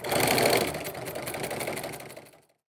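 A sewing machine stitches a straight seam on a DIY nesting basket built with foam, a steady close mechanical whirring run lasting a couple of seconds before stopping, with no talk.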